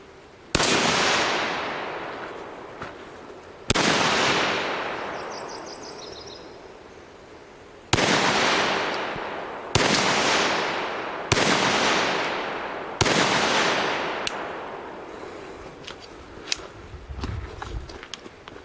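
Five sharp, loud shots from a Jimenez Arms JA-22 .22 LR pistol, spaced a few seconds apart, each with a short decaying ring, then quieter handling clicks at the end; no talking.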